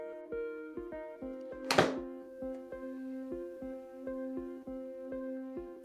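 A golf club strikes a ball on a 110-yard shot, one sharp, loud impact crack standing out from a steady droning hum of launch-monitor or indoor hitting-bay equipment.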